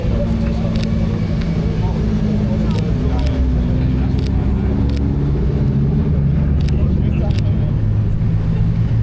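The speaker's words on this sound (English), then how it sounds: "Here you can see the up cars again, followed by the Bugatti Chiron." Cars on a crowded trackday circuit, a Bugatti Chiron among them, pass with a steady loud engine drone and rumble that runs the whole time, with crowd chatter mixed in.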